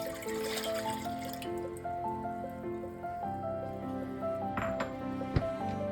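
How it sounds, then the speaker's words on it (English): Half a cup of water poured into a small pot of low-sodium soy sauce over low heat gives a faint, steady liquid trickle with light clinks, quiet and close, no talk. "Add half cup of water."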